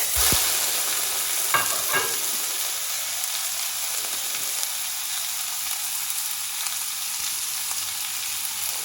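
Ribeye steak searing in a hot pan gives a steady, close sizzle and crackle that holds unbroken throughout, with a few louder pops near the start.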